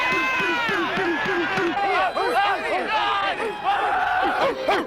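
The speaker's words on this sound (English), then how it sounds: "you hear the crowd start to rev up and roar and start barking" A Cleveland Browns stadium crowd roars and barks, many rhythmic yelping calls rising and falling together over a dense noisy din, loud and continuous.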